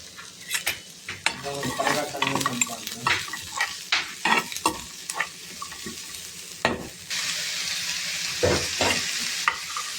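Ingredients for Chettinad mutton gravy frying in a pan, a close, loud sizzle broken by repeated scraping and clattering stirs, with the sizzle running steadier toward the end and no voices.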